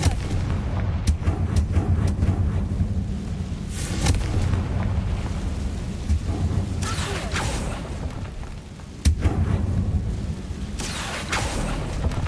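In the Hogwarts Legacy video game, a Confringo fire spell bursts into booming explosions, heavy and repeated blasts layered over constant rumbling game sound and music.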